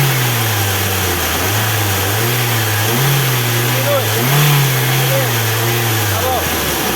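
A Mitsubishi ASX engine with a fault noise revs up and down in slow, rising and falling waves, close and fairly loud, while people talk over it.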